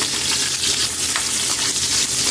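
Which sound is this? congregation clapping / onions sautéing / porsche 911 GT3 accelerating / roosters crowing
onions sautéing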